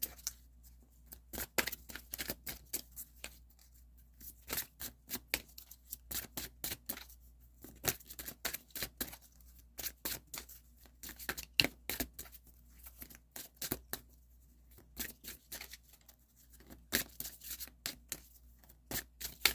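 Tarot cards are shuffled by hand close up in a long run of quick, crisp riffling flicks and slaps, dense and irregular, with no speech.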